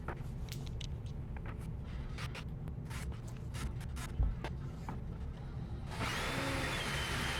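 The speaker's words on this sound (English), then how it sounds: "Finish it off with the chisel." Repeated scraping and tapping of a chisel on wood over a steady mechanical hum, ending in a louder broadband hiss.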